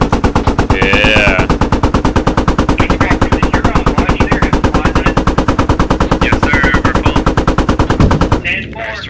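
Sustained machine gun fire aimed at a BTR armored vehicle in a military video game, a loud, rapid, evenly spaced stream of shots lasting about eight seconds before cutting off abruptly.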